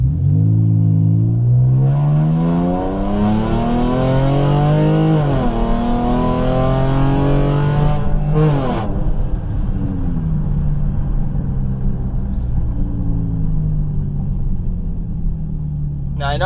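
A Chrysler 300 fitted with a pedal commander revs its engine loudly and close, the pitch climbing through several sweeps, then easing back to a steady idle rumble.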